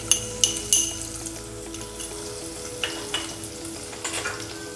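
A ginger-garlic-chili paste hits a hot pan with a soft sizzle, joined by a few sharp clinks of a utensil against metal near the start and scattered light scrapes, with no talk.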